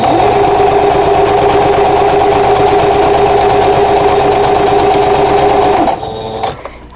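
A sewing machine runs fast and steady, stitching two quilt squares placed right sides together with a quarter-inch seam for a ribbon star block, then stops abruptly near the end, leaving a few faint handling clicks.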